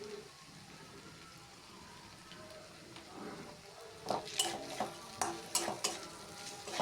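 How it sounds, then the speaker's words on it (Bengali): Chili and cumin powder frying in a pan while being stirred, a soft continuous sizzle that turns into a rhythmic run of spatula scrapes and taps in the second half. "এভাবেই নেড়ে চেড়ে কিছুক্ষণ কষিয়ে নিতে হবে"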